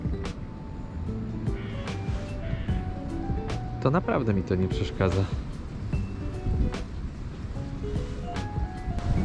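Strong gusty wind buffeting a microphone at a fishing spot, a constant low rumbling roar with surging gusts, heard beneath someone speaking throughout.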